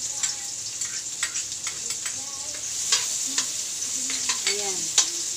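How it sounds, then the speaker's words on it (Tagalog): Onion and garlic sautéing in a pan for spaghetti sauce, a steady hiss of sizzling oil with irregular stirring clinks and scrapes, close and alone. "Dito naman sa kabila, magigisa na rin tayo. Lagyan natin ang sibuyas. And then bawang."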